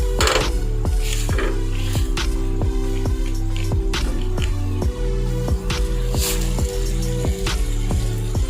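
Wet, squishy hand-mashing of an ingredient for chicken korma, a steady run of soft squelches and drips close up with no talk over it.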